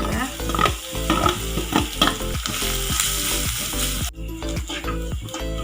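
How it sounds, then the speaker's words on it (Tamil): Grated coconut and cashews roasting in a pan for rava laddu, a loud steady sizzle with repeated scraping strokes of a stirring spoon, close up and without voices. "இதில் தேங்காவும் நல்லா வறுத்தாச்சுங்க லைட்டாக"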